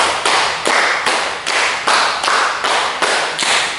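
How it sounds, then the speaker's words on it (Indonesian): A classroom group claps in unison during a sociology lesson, a string of about nine crisp, evenly spaced claps at a quick, steady beat, close and loud. "2 kali tepuk"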